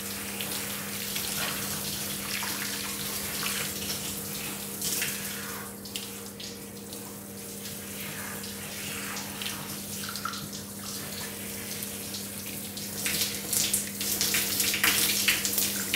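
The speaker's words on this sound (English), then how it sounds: "Now you're just rinsing through." Running water rinses clay mud out of hair, a steady close rushing stream like a tap or shower that continues for the whole stretch with no talking.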